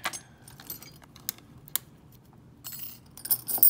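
Small set of keys for an Anchor Las 840-4 lock core jangles and clinks in the hand: scattered metallic taps, then a busier burst of rattling near the end, close and crisp, with no voices.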